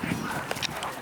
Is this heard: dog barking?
yes